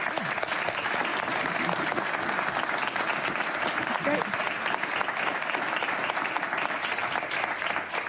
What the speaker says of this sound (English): Like I said, we love the applause.